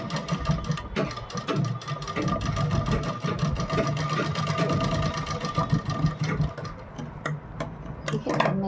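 A domestic sewing machine runs steadily while stitching a fabric tassel for a kurti, its busy mechanical whirring and rapid ticking close by and continuous, with faint room noise behind.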